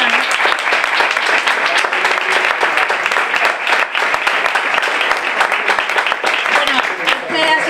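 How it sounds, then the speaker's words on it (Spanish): Loud, sustained applause from an audience at a book-club talk on science fiction, dense clapping filling the whole stretch without a break. "Un aplauso a José María."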